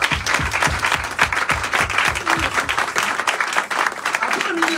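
A church congregation at a Sunday service applauding for God, dense continuous clapping from a crowd filling the room, with a voice speaking over it.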